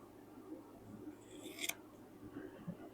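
Scissors snip off a small fabric scrap with one short, crisp cut midway through, set against a quiet room background with no talking.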